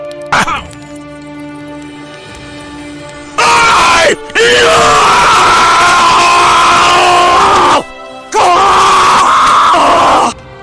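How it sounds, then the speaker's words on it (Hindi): A man lets out long, loud, strained screams in several sustained bursts, with short breaks between them and a brief cry near the start. "वो खूब जोर जोर से चीखने लगता है"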